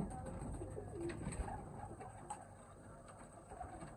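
Soft pigeon coos repeat quietly against a faint background, low throaty calls from several birds close by, old Sialkoti pigeons.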